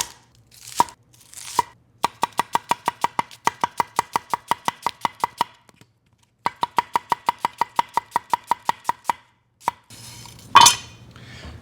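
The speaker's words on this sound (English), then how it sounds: "what I'm doing here is I'm chopping a good amount of onions." Rapid knife chops through onions on a cutting board, beefsteak taco prep in Matamoros style: two long runs of steady, evenly spaced sharp taps, close and loud, separated by short pauses, with no talking.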